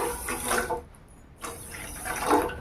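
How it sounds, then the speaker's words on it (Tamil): Water splashes into a pan holding sugar in two close pours broken by a short pause, a bright gushing rush of liquid without any talk. "அதே கப்பில் 2 கப் அளவுக்கு தண்ணி சேர்த்துக்கலாம்"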